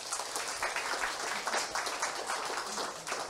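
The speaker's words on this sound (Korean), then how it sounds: "이때 박수 한번 치셔야 됩니다." A seminar audience at a Korean network-marketing event applauds, with many hands clapping in a dense, even patter that sounds somewhat distant and moderately quiet, with no speech over it.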